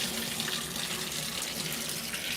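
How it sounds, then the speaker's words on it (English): Tap water gushing into a bathtub, a steady, dense rushing splash heard close and continuous with no pauses. "I'm gonna put on the water a little bit."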